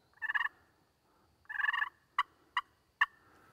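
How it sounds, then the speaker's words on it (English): Turkey purr calls: two soft rolling trilled bursts followed by three short sharp clucks, close and clear against a quiet background. "A turkey makes that sound when he's content."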